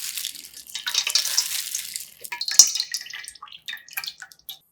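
Vegetable broth squeezed by hand from a cloth bag of ground seasonings, with a wet hiss of liquid pouring and dripping that fades into scattered close drips and small splashes, no talk.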